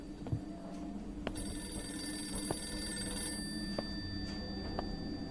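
A telephone rings in a horror game demo, sounding as a sustained electronic trill that stops partway through. Muffled footsteps and soft knocks continue underneath in a quiet indoor hallway.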